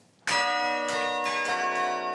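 Carillon bells of the Sainte-Gertrude church in Nivelles ring out loudly after a brief quiet, with several overlapping strikes whose long, shimmering tones keep sustaining and blending together.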